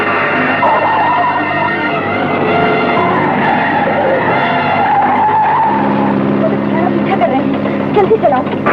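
A car speeds through a police chase in a 1958 Hindi feature film, its engine roaring loudly and its tyres skidding almost without pause for nearly nine seconds, with voices mixed in.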